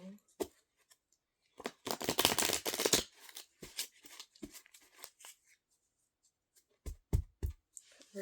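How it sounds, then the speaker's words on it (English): A deck of oracle cards is shuffled by hand at close range, with a dense riffling burst followed by scattered softer flicks and taps, while a voice speaks intermittently. "One more shuffle."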